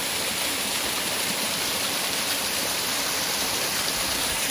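Water flows steadily over rocks on an outdoor nature hike, a continuous broadband rushing like a small stream or waterfall, fairly close and constant, with no talking.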